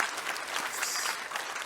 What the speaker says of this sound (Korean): 그렇게 수고하신 우리 여전도 회원들을 위해서 박수를 한번 격려해 주시기 바라요